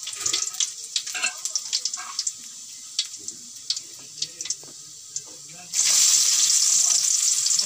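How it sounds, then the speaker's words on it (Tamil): Curry leaves and onions hit hot sesame oil in a pan, first with scattered crackles and pops from mustard seeds, then a sudden loud, sustained sizzle that runs to the end. "அதுக்கப்புறமா கருவேப்பிலை, வெங்காயம் எல்லாத்தையும் போட்டு நல்லா வதக்கிக்கோங்க."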